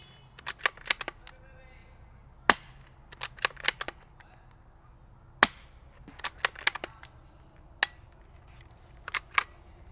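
Suppressed Fox Creek Arms FX-22 Ti rifle firing CCI Quiet .22 rounds: a series of sharp, quiet cracks and clicks spaced irregularly over several seconds, some in quick pairs or clusters, against a faint low background.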